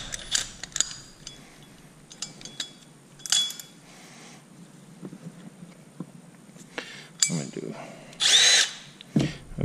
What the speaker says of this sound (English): And you get a hole saw